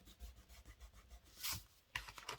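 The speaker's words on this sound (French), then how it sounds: "il faut gommer les petits traits" Eraser rubbing out small pencil lines on paper for a scrapbook page: quiet, close scrubbing strokes in short uneven bursts, with a couple of brisker, brighter swipes near the end and no talking.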